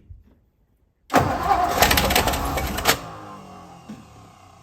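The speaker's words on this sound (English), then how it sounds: "Starter's not happy today." A 1957 Lincoln's starter motor cranks the engine with a loud, close, rapid churning that runs for about two seconds after silence, then eases into a lower, fading rumble; a bird chirps faintly in the background.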